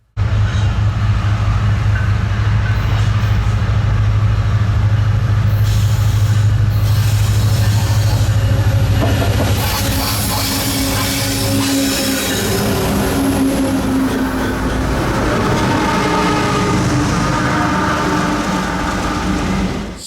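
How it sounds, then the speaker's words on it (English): An intermodal freight train led by an ACE locomotive with two Norfolk Southern GE Evolution units rumbles past loudly in Galesburg, Illinois, its heavy engine drone giving way to clattering wagons and squealing wheels as the cars roll by. "an intermodal appeared out of nowhere on track 2 with an Ace leader and 2 Gevos"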